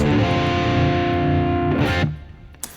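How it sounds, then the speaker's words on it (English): Distorted electric guitar plays a steady funk rock groove with sustained chords, loud and alone, then cuts off abruptly near the end, leaving a brief faint pick noise. "This is the main groove. I'm going to reduce the distortion a little bit."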